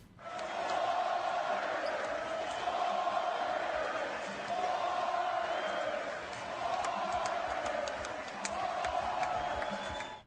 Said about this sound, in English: Here's the crowd after the game.